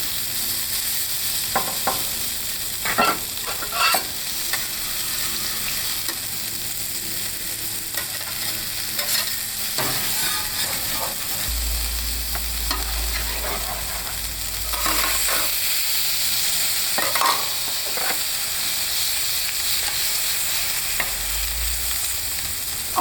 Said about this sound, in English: We smash the living daylights out of it. Smash that thing.